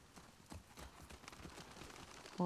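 Rhythmic clip-clop of a horse's hooves in The Last of Us Part II at a steady trot, fairly quiet, ending with a brief louder tonal sound.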